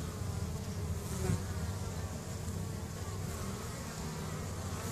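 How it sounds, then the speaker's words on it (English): Russian honeybees swarm around a hive, their dense, steady buzzing holding close and constant throughout with no voices. "Guy in the middle, he's a big bee."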